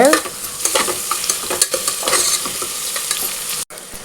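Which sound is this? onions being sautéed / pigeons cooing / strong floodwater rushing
onions being sautéed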